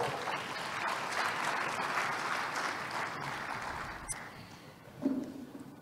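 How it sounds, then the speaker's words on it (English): Audience at a food systems leadership forum gives a round of applause for Dr. Godfrey Bahigwa, moderate steady clapping from a seated crowd that tapers off toward the end, with a faint voice at the close. "Can we give him a round of applause, please?"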